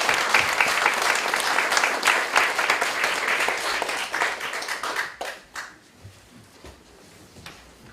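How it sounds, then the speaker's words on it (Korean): Warm applause from a church congregation celebrating a bishop's inauguration at a thanksgiving service, a dense burst of clapping that thins out and fades to scattered claps after about five seconds. "우리 모두 감독 취임을 축하드리면서 뜨거운 박수로 우리 하나님 앞에"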